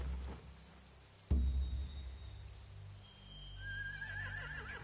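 Horses whinny in The Walking Dead video game, a long wavering neigh rising late over a low ambient rumble, with a sharp thud near the start and faint hoof clatter.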